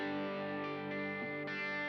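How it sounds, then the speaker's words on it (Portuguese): An electric guitar played on the bridge pickup through a captured Vox AC30 amp with light reverb rings out in sustained, layered notes that shift chord about three times in two seconds, loud and alone. "O primeiro som que eu utilizo é a captura do hub, um AC30 com menos reverb"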